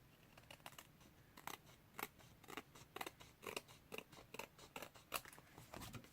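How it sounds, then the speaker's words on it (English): Scissors snip a papercraft card's small overhang in a quick series of quiet, crisp cuts, each close by and irregularly spaced, with no talking. "Just going to get my scissors and trim this off slightly because there's a little tiny bit of overhang."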